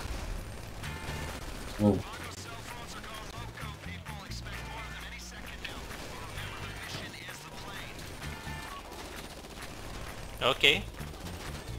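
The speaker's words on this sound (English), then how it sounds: "Okay, start shooting, guys." Gunfire in GTA Online during a prison break setup mission, heard as a steady rattle of shots and mechanical clatter beneath game noise, with a couple of sharper impacts and people briefly exclaiming over it.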